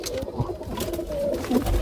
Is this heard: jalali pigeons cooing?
yes